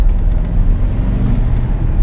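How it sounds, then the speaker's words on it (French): A 2019 Bentley Continental GTC V8 convertible produces a steady, deep, muffled engine and exhaust rumble with turbo hiss, heard close and continuous. "Je suis hyper surpris par le bruit des turbos."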